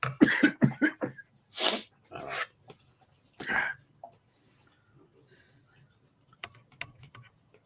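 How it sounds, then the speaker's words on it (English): Several close coughs and snorting breaths, a loud cluster at first and then scattered ones, followed by quieter shuffling noises. "a cough, or is that an allergy?"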